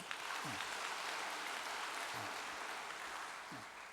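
A church congregation claps together for honored guests attending a worship service, a steady, broad wash of applause that fills the space, fairly soft and distant throughout.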